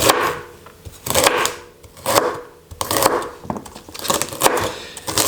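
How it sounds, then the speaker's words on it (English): A knife chopping celery into small pieces on a board for mussels, with clear rhythmic bursts of close cutting strokes separated by brief pauses. "I cut it into quite small pieces"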